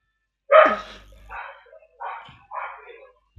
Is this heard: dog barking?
yes